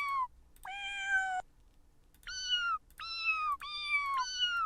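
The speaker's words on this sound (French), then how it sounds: "Vraiment genre un piano version chat." Cat meows sound as piano notes on a website, clear and close, with one long meow, a pause, then four quick meows in a row.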